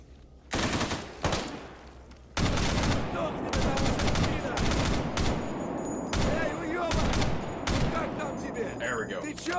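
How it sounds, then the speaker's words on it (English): Heavy gunfire from a powerful gun in the video game S.T.A.L.K.E.R., with repeated loud, punchy shots in quick bursts that ring out over about ten seconds, each blast followed by a short echoing tail. "Love how meaty this gun sounds."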